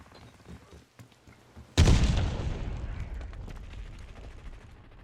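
A frag grenade goes off in Call of Duty, a sudden loud booming blast after quieter game ambience, followed by a long rumbling decay.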